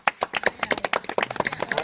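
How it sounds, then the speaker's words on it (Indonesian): A small group at an inauguration ceremony for new members of an outdoor club gives quick applause for Arya, brisk uneven claps close by with no talking over them. "Tepuk tangan tuh buat si"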